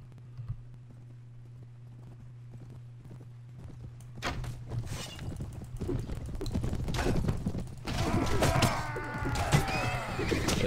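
Horses gallop in the medieval combat game Mount and Blade Warband, a growing clatter of hoofbeats with thuds and clashes, getting louder and busier toward the end over a steady low hum.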